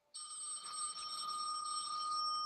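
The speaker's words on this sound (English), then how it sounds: "That's a rotary phone." An old rotary telephone rings with a steady, continuous bell trill, faint and somewhat distant, holding unbroken for a couple of seconds.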